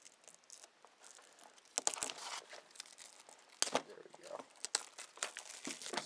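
Plastic wrapping from a PS3 Borderlands package crinkles and crackles in irregular bursts up close while it is unboxed, with a few sharper tearing rustles, and a person talks quietly in places.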